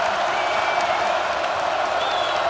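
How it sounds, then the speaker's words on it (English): A packed basketball arena crowd at East Lansing during a Maryland at Michigan State NCAA men's game roars in a steady, dense wall of cheering and applause, loud and unbroken throughout. "Listen to this crowd at East Lansing"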